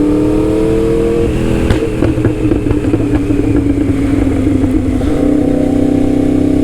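Motorcycle engine while riding on a winter road, a loud, steady close-up drone with slight rises and dips in revs throughout.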